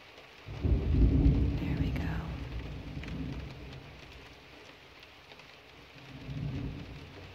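Thunder rolls and rumbles through a brief early-summer rainstorm, a heavy low boom early on and another softer rumble near the end, over steady rain.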